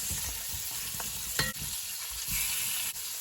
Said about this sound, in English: So I'm adding my bones in now